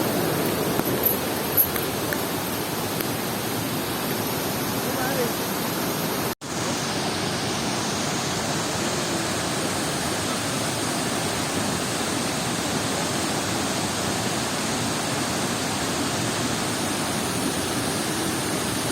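Steady, full-spectrum roar of Irpu Falls waterfall, a constant rushing wash of falling water heard close and loud throughout, with a brief dropout partway and no talking.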